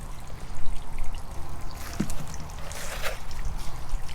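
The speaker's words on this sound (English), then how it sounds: "I'm just going to fill the pot with a nice all-purpose potting soil" All-purpose potting soil is poured into a plant pot for a shade container planting, giving a close, continuous rushing and trickling pour with a few soft thumps.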